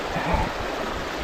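Water in a creek flows and gurgles in a continuous broad rush, close by and fairly loud, with a brief low thump near the start.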